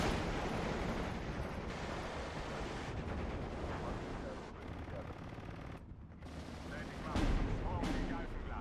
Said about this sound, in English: Hearing all of those fire at once is just fantastic.